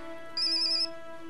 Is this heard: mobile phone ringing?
yes